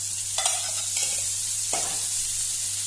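Prawns sizzle gently in oil under a constant hiss, with a couple of brief scraping stirs.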